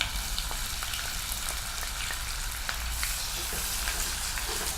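Chopped onion frying in hot oil with bay leaf in a home kitchen, giving a steady, dense sizzle that stays loud and continuous with a few faint stirring clicks, with no talk.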